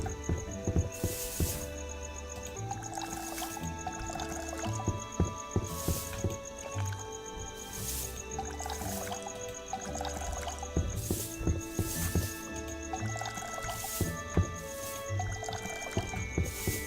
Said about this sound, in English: while I'm out here, let's just water everything